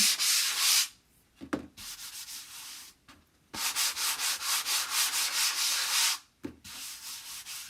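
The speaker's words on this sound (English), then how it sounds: "Light sanding." Rhythmic back-and-forth sanding strokes rasp across wood in long bursts, with brief pauses between passes, close and fairly loud.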